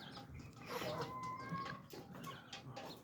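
Hens on a small home kitchen poultry farm cluck softly and intermittently, with short chattering calls over quiet background noise.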